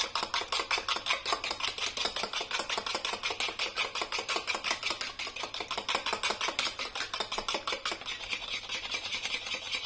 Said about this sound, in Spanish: el huevo lo batimos